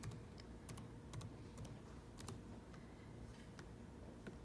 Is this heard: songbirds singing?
no